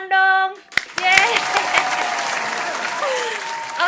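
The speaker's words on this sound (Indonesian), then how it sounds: "tepuk tangan dong" An audience gives a brief round of applause after a voice sings out, with a burst of clapping that settles into a steady patter.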